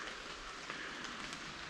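Steady rain falling outdoors on a cold day, a dense, even hiss of drops on surfaces that stays constant and fairly close throughout, with no voices.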